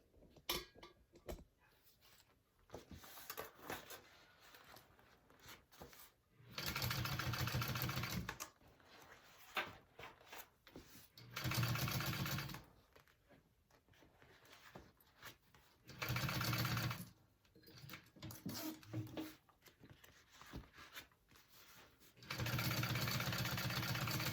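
Sewing machine topstitching through a contrast piece on a tote bag, running in several loud steady bursts of a second or two, separated by quieter handling noises and pauses.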